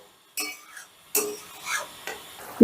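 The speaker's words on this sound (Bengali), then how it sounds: "এবারে দইটা দিয়েও বেশ কিছুক্ষণ ভালো করে কষিয়ে নেবো" Spice paste with yogurt being stirred and fried over a raised gas flame, for a potato, pointed gourd and soybean curry: three or four separate bursts of spatula scraping with quiet gaps between them and a faint sizzle.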